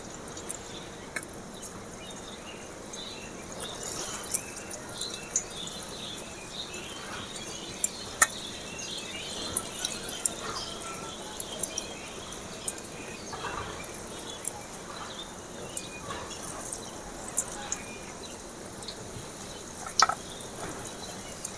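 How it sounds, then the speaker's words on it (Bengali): Batter-coated jackfruit pakoras frying in hot oil, a steady low sizzle with light bubbling and occasional sharp pops throughout, close and alone without talk. "এবারে আমি একটা একটা এভাবে দেখুন পুরোটা ডুবিয়ে গরম তেলে ছেড়ে দিচ্ছি।"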